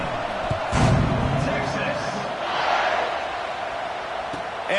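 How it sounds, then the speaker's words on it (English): Football stadium crowd at a college game buzzing after a touchdown, a steady roar of many voices with a swell near the start and another midway, under continuous nearby talk. "this crowd is buzzing after that last score"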